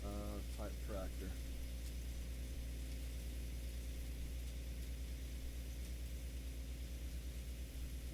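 A steady, droning idle of an articulated rear-type tractor engine in Farming Simulator 19 holds a constant low rumble throughout, with a brief burst of tonal sound near the start.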